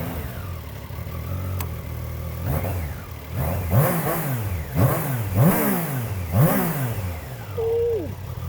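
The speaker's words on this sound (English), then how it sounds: "the exhaust sounds really good and the engine as well" Triumph Tiger Sport 660 motorcycle in town, engine and exhaust revved repeatedly in several rising blips over a steady idle, loud and close, no talk.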